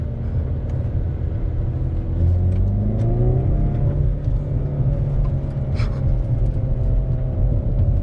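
A 2019 Hyundai Veloster N engine in sport mode revs and rumbles loudly and close, with rising and falling pitch sweeps over a continuous throaty drone, no voices.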